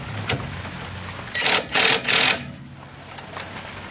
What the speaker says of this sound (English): I got a ratchet on the bottom, and I got a impact socket up on the top